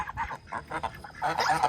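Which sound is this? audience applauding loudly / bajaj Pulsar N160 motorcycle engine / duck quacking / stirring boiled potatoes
duck quacking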